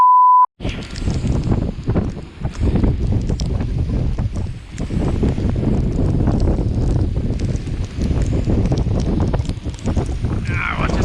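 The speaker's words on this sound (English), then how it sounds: "What a wonderful morning. Full on squall here." Strong squall wind roars and buffets the microphone aboard a sailboat heading back toward a harbour entrance, a loud, continuous gusting rush with surges and dips, and a voice speaks briefly over it.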